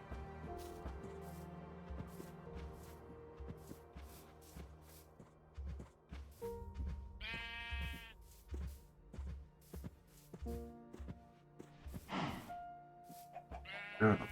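Sheep bleat in a survival video game, in several short calls spread across a busy, steady bed of game sounds. Soft footsteps and shuffling come through underneath.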